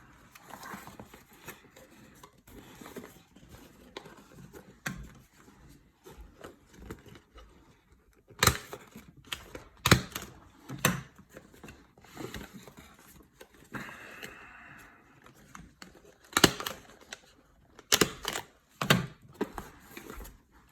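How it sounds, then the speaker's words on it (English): A stapler clicks through folded paper of a red envelope origami lantern, sharp snapping clicks scattered among soft paper handling and rustling, close and fairly quiet, with several louder clusters near the end. "use a staple without like this fat part like as close to the thing as possible"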